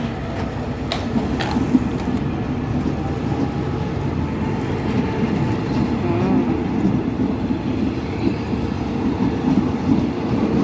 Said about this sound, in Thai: รถไฟไปแล้ว